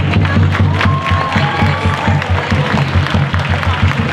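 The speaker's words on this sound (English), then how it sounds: "can you please give me a big round of applause for everybody" Audience applause at a Tahitian dance solo competition, a steady wash of clapping from a crowd with some cheering mixed in, fairly loud and continuous throughout.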